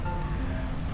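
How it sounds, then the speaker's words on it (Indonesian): A swift river current during flooding, with the swollen water rushing in a steady, full-bodied hiss and roar, close and continuous with no pauses. "di ujung situ tuh ada aliran sungai yang masih cukup deras"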